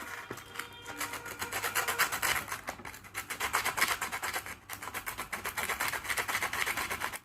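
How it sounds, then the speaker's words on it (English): Sandpaper rubs back and forth against the metal shaft of a small DC motor in quick, even strokes, a close, dry rasping that repeats steadily with brief pauses. "Then we have to rub the shaft of the DC motor with the sandpaper."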